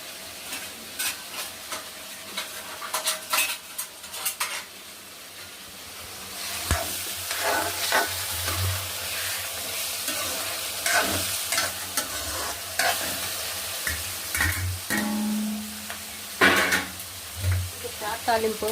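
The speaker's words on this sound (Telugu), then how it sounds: "తాలింపు రెడీ చేస్తున్నాను" Tempering spices (cumin, mustard seeds, curry leaves) crackle and sizzle in a hot pan, with repeated scraping stirs and sharp pops over a continuous fry, with occasional voices nearby.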